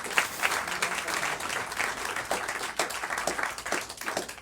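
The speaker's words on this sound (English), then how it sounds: "Give a round of applause for these folks." An audience claps loudly for the Haverford High School jazz big band. Dense, close applause with sharp individual claps pops out of the wash and carries through without a break.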